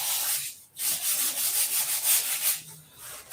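A surface is hand-sanded to take the grit off, giving close, loud, continuous rubbing strokes broken by two short pauses, with no talking.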